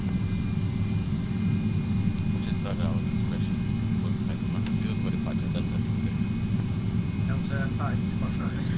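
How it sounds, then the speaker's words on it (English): Steady roar of MD88 jet engines held at high thrust in X-Plane 11, a continuous broadband drone under intermittent talk. "I'm gonna leave the engines turned up for you guys"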